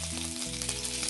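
Mustard seeds spit and crackle in hot coconut oil in a pan, a bright, continuous sizzle heard up close with no voices.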